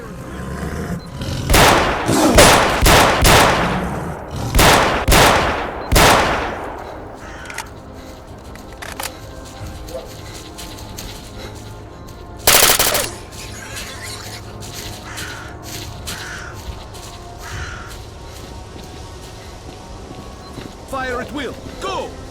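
Gunfire in the video game STALKER with the Gunslinger mod: a loud volley of sharp shots in the first seconds, then a single later blast and scattered fainter pops, with voices over the action.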